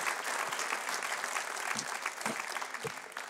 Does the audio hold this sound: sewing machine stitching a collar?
no